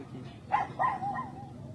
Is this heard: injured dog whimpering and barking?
yes